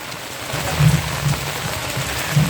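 Heavy rain falling on a chicken farm makes a steady, dense wash of hiss with a low rumble beneath it, continuous and fairly loud, with no voices.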